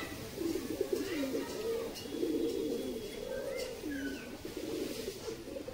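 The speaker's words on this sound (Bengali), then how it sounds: "খুব সুন্দর কোয়ালিটি কালার কবুতর" Several pigeons coo in repeated soft, throaty phrases, close by and overlapping, with a little background noise.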